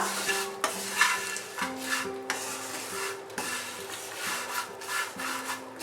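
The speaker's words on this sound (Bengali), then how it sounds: "এগুলো দিয়ে আমি আরো 1 মিনিট মতো ফ্রাই করব।" Vermicelli with chopped almonds fry on low heat for jorda semai, heard up close as a gentle sizzle under repeated scraping spatula strokes in an uneven rhythm, with no voices.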